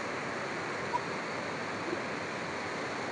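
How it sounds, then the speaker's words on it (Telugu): Water rushes steadily from a dam with all forty-five gates opened after heavy upstream rains, making a dense, continuous roar that stays even and close throughout, with no talk. "దూరాల్లో పూర్తిగా నలభై ఐదు గేట్లు తెరిచి నీటిని వదులుతున్నారు"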